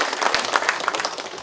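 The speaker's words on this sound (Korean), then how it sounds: "큰 박수 부탁드립니다." Audience applause at a political party lawmakers' workshop, a close, busy patter of many clapping hands that holds steady, with no talk on top.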